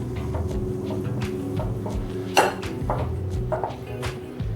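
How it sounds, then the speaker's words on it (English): Pastry cutter pressing butter into biscuit dough in a metal bowl, irregular clinks and scraping knocks at close range, one sharper clatter midway. "Now we're going to use a pastry cutter."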